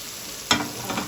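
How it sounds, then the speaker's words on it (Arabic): A small onion sautéing in hot oil for Egyptian koshari, a steady close sizzle with a sudden louder burst of frying as it goes into the pan, followed by softer crackles and stirring; no voices. "دي مقدار مثلا نقول ايه بصلايه صغيره، هنشوحها بس كده شويه"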